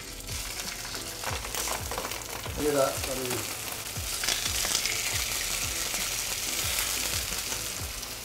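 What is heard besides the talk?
chicken breast sizzling in hot oil in pan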